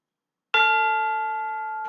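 A single chime note on orchestral tubular chimes strikes sharply and then rings on, bright and steady, with slowly fading overtones. A faint second strike starts just at the end.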